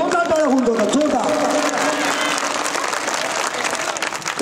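An audience applauds loudly at a Marathi stage performance, the clapping building under a voice that speaks briefly at the start, then carrying on as a dense, steady roar.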